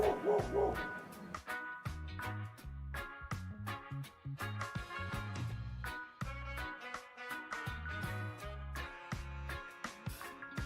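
A dog barks several times, partly buried under steady, loud background music.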